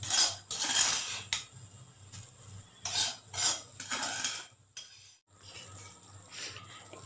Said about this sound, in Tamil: கிளறிக்கோங்க.